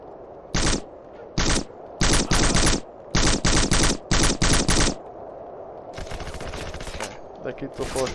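Machine gun fire in the video game Black, several loud, close sharp bursts of rapid shots separated by short pauses, followed by denser chaotic gunfire and impacts.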